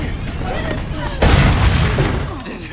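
A sudden loud grenade explosion booms out over an already noisy, chaotic scene, then rumbles on briefly.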